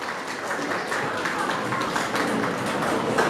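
A crowd applauds at a school award ceremony, steady dense clapping that holds at a moderate, even level for several seconds without any speech.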